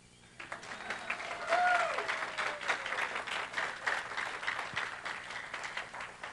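A church congregation at a Practitioner's Sunday service applauds a long-serving practitioner, steady crowd clapping that rises quickly, holds for several seconds and then thins, with a few voices faintly mixed in.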